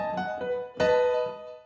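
A piano plays a seventh chord voiced with the root at the bottom and the seventh on top, struck as a few quick notes before a fuller chord rings out and fades.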